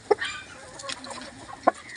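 Chickens on a poultry farm give short clucks and soft scattered calls nearby, two sharper clucks standing out at the start and near the end over a quiet rustling background.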